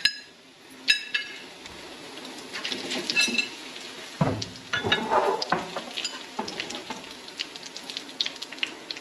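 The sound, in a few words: spices (chilli, oregano, cumin) frying in hot oil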